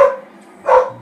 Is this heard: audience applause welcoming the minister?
no